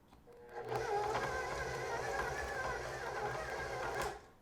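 An electric mixer beater churns cookie dough with toasted walnuts, a steady whirring drone running close and moderately loud for about three seconds before cutting off.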